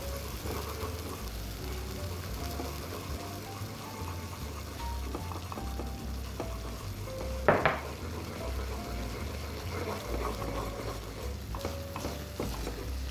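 Flour paste is stirred in a pot of boiling water while cooking, a soft continuous scraping and swishing with a brief clatter midway, faint and close, with no talk.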